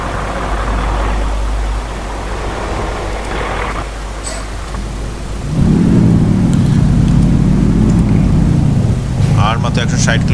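Car engine driving along a highway and overtaking another vehicle, a steady low road-and-engine rumble that swells louder midway, with someone talking over it.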